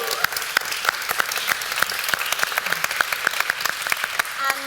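Audience applause after a community talk about the RunThrough Foundation, a steady wash of many hands clapping at moderate distance, dense and even throughout, tapering slightly at the end.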